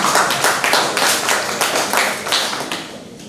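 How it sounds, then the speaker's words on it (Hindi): An audience claps along during a live story and song performance, a steady run of crisp, rhythmic hand claps with no voices over them. "ताली बजा दो।"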